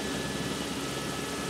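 Aircraft flying in toward Sogndal's Haukåsen airport in Norway, heard as a steady, loud, broadband engine drone that stays constant throughout, with no voices.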